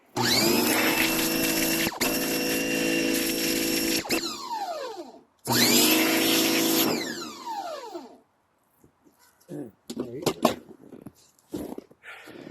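Pressure washer blasting a deer skull clean, two long loud bursts of harsh high-pressure spray with pump whine, then a quieter stretch of scattered knocks and handling noises.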